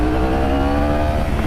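A 2016 Yamaha R1 sport motorcycle engine revving hard, a loud close snarling exhaust note held high and steady through the short burst.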